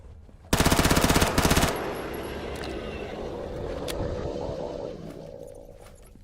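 A submachine gun in the STALKER GAMMA video game fires one rapid, loud burst of about a second, then a short break, followed by a low rumbling ambience.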